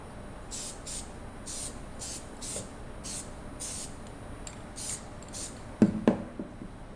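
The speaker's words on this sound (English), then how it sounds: "add some adhesive spray so that it'll hold on to the material inside the hoop" A run of short hissing bursts of adhesive spray onto fabric in an embroidery hoop, about a dozen in quick succession, followed by a couple of soft handling knocks close by.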